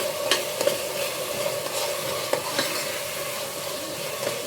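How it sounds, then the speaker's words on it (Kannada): Chili powder frying on low heat for tomato bath, with a soft sizzle under repeated scraping and stirring strokes of a spoon against the pan, fairly close and steady. "ಸಿಮ್ಮಲ್ಲಿ ಇಟ್ಕೊಂಡು ಹಸಿ ಸ್ಮೆಲ್ ಹೋಗೋವರೆಗೂ ಫ್ರೈ ಮಾಡ್ಕೊಳ್ಳಿ"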